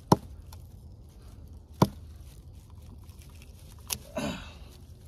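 Sharp, loud chops land on a very hard piece of wood in an otherwise quiet setting. Three or four separate strikes come a second or more apart, and a rougher splitting crunch follows near the end.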